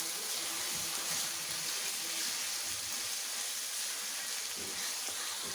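Keema kachnar with kasuri methi and garam masala sizzling steadily in a pan as it is stirred, a constant bright frying hiss with soft scraping, no talk.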